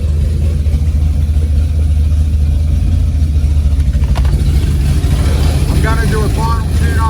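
A car engine idling at base timing and base idle, a steady low rumble throughout, with a voice talking over it and a few faint chirps near the end.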